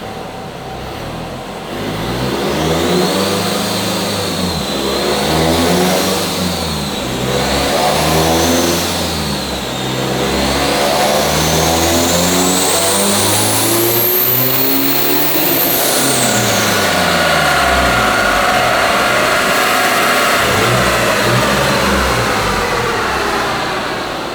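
A tuned Nissan Navara pickup engine revs loudly and close for a long stretch, its pitch repeatedly rising and falling in waves before climbing to a high, strained peak and settling back down.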